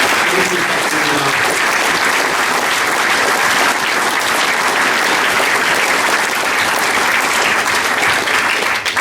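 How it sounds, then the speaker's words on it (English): An evening business awards audience gives loud, dense applause that stays at full strength throughout, close and continuous with no talk over it. "Please round of applause"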